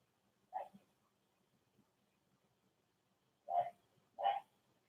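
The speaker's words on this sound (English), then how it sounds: "I hear the dog down a few houses down." A dog barks a few houses away, three short muffled barks, one early and then a quick pair near the end, faint and distant over a quiet room during a yoga session.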